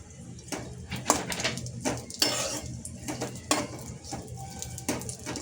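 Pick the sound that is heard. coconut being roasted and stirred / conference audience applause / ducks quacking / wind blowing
coconut being roasted and stirred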